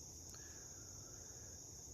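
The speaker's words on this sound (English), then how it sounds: "got the rhythms of nature, the song of crickets" Crickets sing outdoors on a green morning, a constant high-pitched steady chirring that fills the background, with one brief bright chirp near the start.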